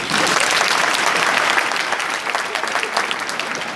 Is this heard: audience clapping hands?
yes